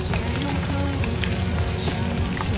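Aromatics stir-fry in hot oil in a wok, a loud, dense, continuous sizzle and crackle close by with no talking.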